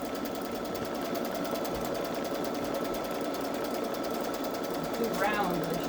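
A Babylock Solaris embroidery machine stitches rounds through quilt batting with a steady, close mechanical chatter. The sound is unbroken, and a brief voice rises near the end.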